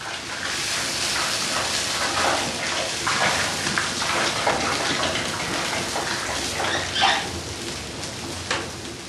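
A steady rush of cold water pours continuously for several seconds during beeswax processing, loud and close, with slight surges in the flow.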